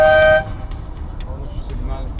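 A cycle rickshaw driver in rainy Paris traffic gives a short, loud horn toot, followed by a wash of wet street and traffic noise.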